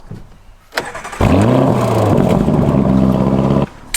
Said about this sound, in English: So, cue the engine.